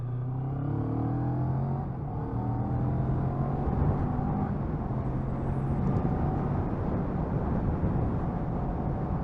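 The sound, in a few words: CF Moto 650NK motorcycle engine while riding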